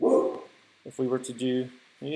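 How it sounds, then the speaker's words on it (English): Pet dogs barking and yipping in the background of a home recording, several short sharp barks in quick bursts heard under a voice. "you can hear my dogs in the background."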